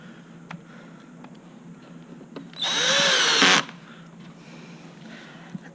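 A power drill drives the screws that join the housing to the gearbox of a Terrain/Ryder Tri, one close, loud whirring burst of about a second in an otherwise quiet room with faint ticks.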